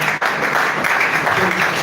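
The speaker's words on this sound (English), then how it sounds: "A round of applause for Miss Lydia." Audience applause at a seminar and foundation launch, a dense steady wash of clapping filling the whole moment, loud and continuous with a brief dip near the start.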